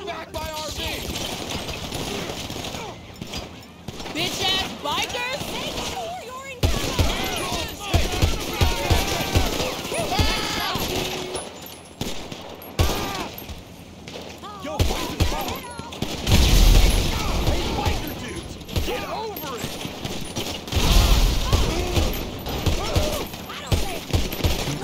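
Gunfire rattles through a GTA Online shootout during an Acid Lab mission: repeated bursts and single shots, loud and close, heard under excited, nearly constant talking.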